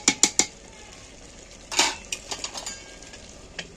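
A spoon clinks and scrapes against a pressure cooker while mutton curry is stirred, three quick metallic taps, then a scraping stir and a few scattered lighter knocks, close and moderately loud.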